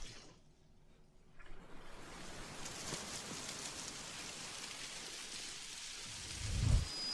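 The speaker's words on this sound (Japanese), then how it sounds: "小雨だ。" Light rain pattering steadily in the Kamen Rider Memory of Heroez video game, a soft even hiss that fades in after a quiet start and holds at moderate level, with a brief low thump near the end.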